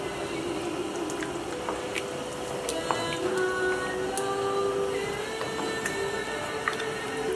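Bolognese sauce bubbling in a pot on the stove, soft steady simmering with scattered small pops and plops, faint and close, no voices.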